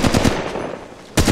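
Gunfire in the Apex Legends Mobile video game: a quick burst of automatic shots, a short pause, then another burst starting, loud and close.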